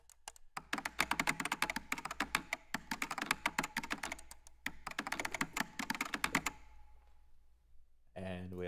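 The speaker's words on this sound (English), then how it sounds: "Mouse clicks." Sampled computer mouse and keyboard clicks from a cinematic percussion library: dense runs of sharp, close clicks in two bursts separated by a brief pause, ending in silence before a voice briefly starts.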